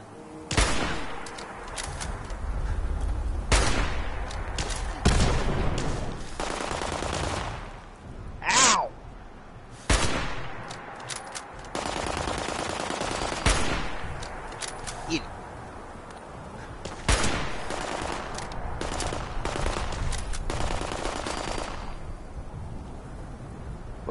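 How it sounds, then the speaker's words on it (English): Gunfire in Fallout 76: Wastelanders cracks out in sharp, loud bursts and single shots scattered irregularly through the stretch. The shots alternate with quieter gaps, and a player's voice talks in between. "I'm shooting, hold on."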